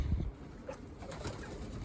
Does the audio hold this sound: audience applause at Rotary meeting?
no